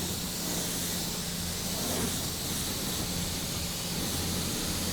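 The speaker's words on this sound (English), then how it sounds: "spraying the wheel barrel down below" A pressure-washer spray hisses steadily against a car wheel barrel, a dense continuous rush of water at close range with no pauses and no voices.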